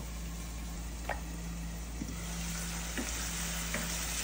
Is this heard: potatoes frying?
yes